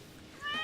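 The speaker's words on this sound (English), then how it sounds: "We got a kitty meow." A short cat meow from the farming game Stardew Valley, a clear mid-pitched mew rising out of a quiet background in the second half.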